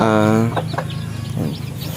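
Chickens cluck and squawk close by, one drawn-out call followed by scattered shorter clucks over farmyard background noise.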